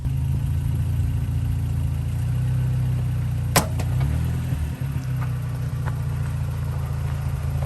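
A vehicle's motor pulls under load in fourth gear during a test, a steady low droning hum with a brief sharp click partway through and small knocks after it.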